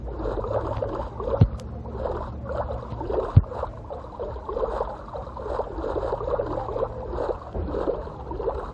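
A boat is rowed across water in Minecraft Pocket Edition (Bedrock), with repeated rhythmic paddle splashes and gurgles at an even pace, close and clear, with a couple of sharp clicks and no talking.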